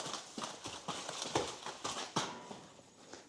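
Wild horses' hooves clop and knock irregularly on a hard surface in a chute system, close by, several animals shifting and stepping in a confined space.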